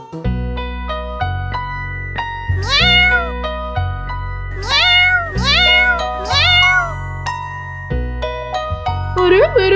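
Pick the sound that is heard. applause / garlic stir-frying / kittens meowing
kittens meowing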